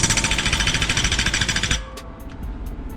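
A pneumatic impact wrench tightens a wheel seal nut on a diesel truck, hammering in a rapid, loud, steady burst for nearly two seconds before stopping abruptly, leaving quieter shop ambience behind.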